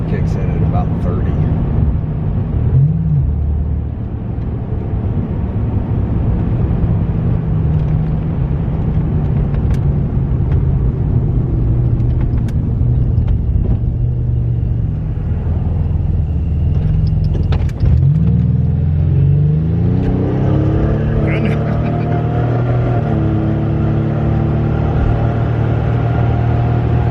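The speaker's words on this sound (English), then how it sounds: "I'll just hit the throttle, so we won't have the power brake, so it'll just take off" A 1987 Buick Grand National turbo car launches and accelerates without a brake stand, its engine note a steady loud rumble that rises into a climbing rev sweep near the end, with speech over it.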